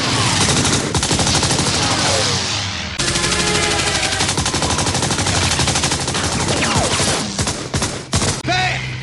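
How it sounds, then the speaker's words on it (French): Rapid, sustained machine gun fire rattles loudly and continuously in a staged scene aboard an aircraft, with dense bursts running almost unbroken and a few heavier impacts near the end. "il va falloir vous servir de la mitrailleuse"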